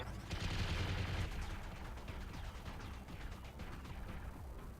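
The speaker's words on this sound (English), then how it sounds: "We're throwing a bajillion machine gun bullets at the guy." Dense, continuous machine gun fire in the BattleTech video game, a fast rattling barrage that starts loud and then carries on a little softer in the background.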